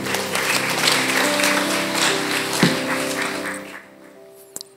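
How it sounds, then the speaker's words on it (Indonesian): A church congregation at a Sunday service breaks into steady, full applause that fills the room for several seconds, then fades out, with a couple of sharp taps near the end. "Boleh kasih aplaus?"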